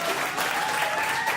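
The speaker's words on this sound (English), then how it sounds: "And all the applause is coming from people who don't live right here." Sustained audience applause at a community board meeting, a steady dense patter of many hands clapping at moderate loudness throughout, with no talk over it.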